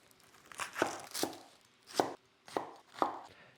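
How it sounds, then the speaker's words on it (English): An onion chopped with a knife on a board, five or six separate crisp thuds spaced unevenly across a few seconds, close and fairly quiet with no talking. "let's go ahead and chop up an onion"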